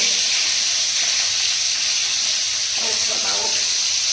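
Pieces of fish frying in hot oil give a continuous loud hiss and sizzle, with a brief soft clatter of handling near the end.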